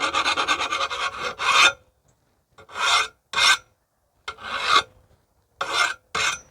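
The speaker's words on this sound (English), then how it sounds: "I'm just going to get these burrs off the back side with a hand file." Hand file rasping burrs off the back edge of a Toro lawnmower blade, a series of loud, close metallic strokes in bursts separated by short pauses, with no talking.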